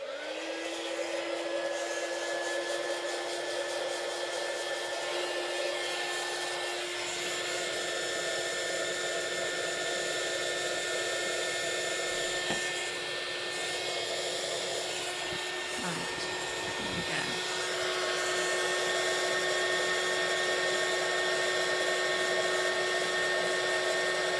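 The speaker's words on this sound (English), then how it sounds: "you'll hear a noise because I'm just going to warm up my heat tool to set this" A heat embossing tool warms up with a steady whirring blower drone throughout, a constant pitched hum and a few faint clicks around the middle.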